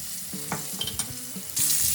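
Steady sizzling of crucian carp frying in a pan over a small stove burner, with a few soft clinks and stirs, growing louder and hissier near the end.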